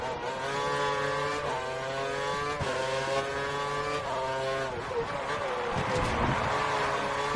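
Formula 1 race car engines roar in a racing video game at the Singapore 2013 race, a continuous high-pitched whine rising and falling through gear changes, with steady engine tone throughout and no talk.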